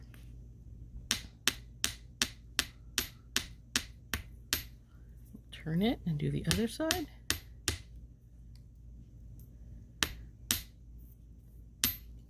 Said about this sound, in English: Here's our bench block and our piece and our chasing hammer.